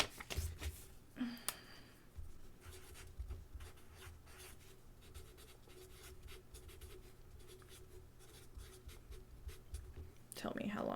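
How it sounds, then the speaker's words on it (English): A pen scratches across paper as a time is written down, a soft brief scribbling heard close up over a quiet background, with a person talking nearby. "Let me write down what time that was."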